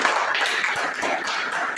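An audience at a Modicare meeting claps for a cleaning-product demo, producing a dense, fairly loud wash of clapping that holds steady throughout with no speech on top.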